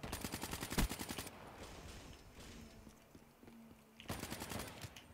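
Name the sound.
gunfire in the video game Call of Duty Black Ops 3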